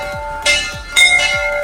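Temple bells ring at a hilltop temple in Nainital, Uttarakhand, where bells hang from every pillar; two bright metallic strikes about half a second apart, each leaving a shimmering ringing tail, heard close and clear with no talking.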